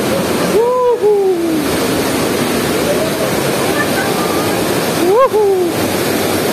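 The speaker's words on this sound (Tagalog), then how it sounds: "Ayan mga tubig guys, tumutulo-tulo na." Water flows and drips at Wawa Dam, a loud steady rushing roar close by, with a voice calling out briefly twice over it.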